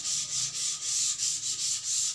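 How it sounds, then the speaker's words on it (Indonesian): A sheet of 400-grit sandpaper rubbed by hand over a wood surface being prepared for French polish finishing gives steady, rhythmic back-and-forth scratchy strokes, about four per second, close and clear with no talking. "Lalu saya menggunakan amplas, ini amplas lembaran, amplas nomor 400"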